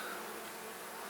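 Honey bees buzz at an open hive during an inspection, a steady, close droning hum with no voices.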